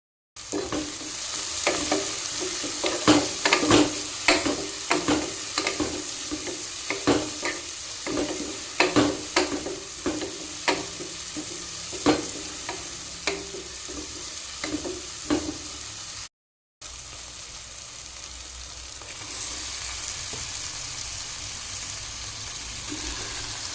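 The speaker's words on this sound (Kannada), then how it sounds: "ಇದನ್ನು ಸ್ವಲ್ಪ ಫ್ರೈ ಮಾಡಬೇಕು" Ginger, green chillies and chopped tomato fry in a pan, crackling under frequent clattering stirs in the first part, then a steadier hiss of frying carries on after a brief break, close up with no talking.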